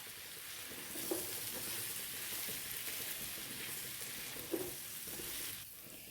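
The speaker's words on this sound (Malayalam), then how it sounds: "ഇനി നമുക്ക് നന്നായിട്ട് ഇതെല്ലാം കൂടി ഒന്ന് ഇളക്കി കൊടുക്കാം" Potato and okra with garlic powder frying in a pan, a continuous gentle sizzle with a couple of light spatula scrapes as the pieces are stirred, quiet and even.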